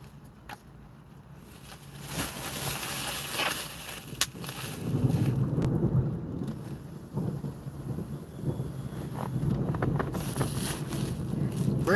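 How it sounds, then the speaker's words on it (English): Thunderstorm rolling in, with deep rumbles of thunder, steady rain and gusting wind buffeting the microphone, building in loudness over the stretch. "Oh yeah, we getting a storm here"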